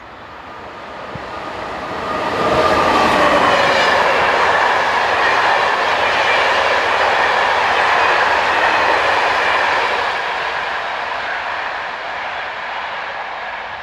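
Train 22350 working the 0701 service from Chambéry rolls past with a steady broadband roar and faint rhythmic wheel clatter, swelling loud after a couple of seconds and holding before easing slightly toward the end, with no voices.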